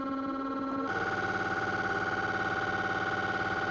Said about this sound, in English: every note has a triplet, and if I play it, we just get a machine gun noise